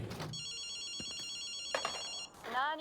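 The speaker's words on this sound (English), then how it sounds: "Why is there a phone call going on over here?" A telephone rings inside a supernatural-themed parkour video game, its steady electronic ringing tone repeating continuously for about two seconds before cutting off, with brief game sounds around it.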